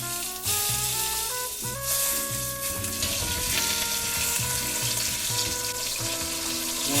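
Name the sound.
searing osso buco veal shanks in a pan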